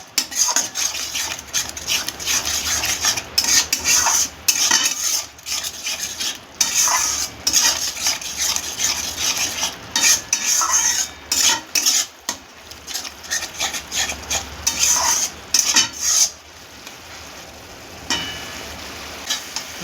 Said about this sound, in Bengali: টমেটো বাটাটা দিয়ে আবার কষতে হবে।